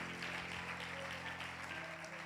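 Congregation applauding in a church, a dense, steady patter of many hands clapping, moderately distant, with a faint hum beneath.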